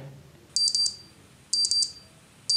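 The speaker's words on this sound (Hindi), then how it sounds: "इस तरह से एक अलार्म बजेगा" Android phone anti-theft alarm ringing in close, loud bursts of rapid high beeps, three repeating groups about a second apart against quiet background.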